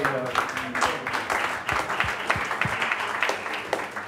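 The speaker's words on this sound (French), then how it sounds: "On peut applaudir, quand même." A small audience applauds warmly, steady clapping at moderate distance with a few voices murmuring underneath, lasting a few seconds.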